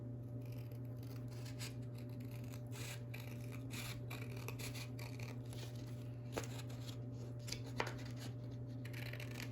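Paper being trimmed for a journal page, quiet crisp snipping and rustling close by over a steady low electrical hum, with a couple of small clicks near the end.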